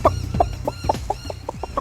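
Several free-range chickens cluck in quick, uneven bursts close by, a busy rhythmic chatter of short clucks.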